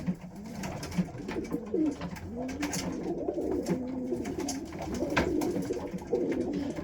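Several breeding pigeons coo continuously in a loft, overlapping low throaty calls with occasional wing flutters and shuffling.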